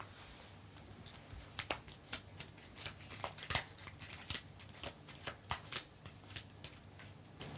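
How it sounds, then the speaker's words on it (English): A deck of playing cards being shuffled up close, with a fast crackle of riffled cards and a few sharper flicks spread over several seconds. The sound is quiet against a low background hum, and nobody speaks. "Shuffle the deck."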